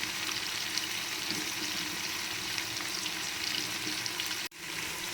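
Potatoes and other ingredients for paruppu satham sauté in a pan with a continuous close sizzle and light stirring scrapes, steady throughout, ending with a brief sharp knock.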